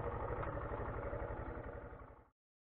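A motorcycle engine idles with a steady, throbbing low rumble, then cuts off abruptly into silence.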